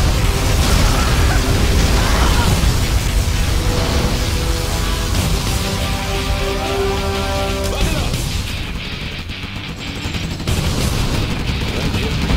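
A particle cannon blast in Command & Conquer Generals Zero Hour: a heavy sustained roar with crackling bursts and a humming energy tone, followed by rumbling booms, loud and dense throughout.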